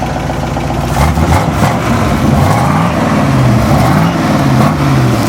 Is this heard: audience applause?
no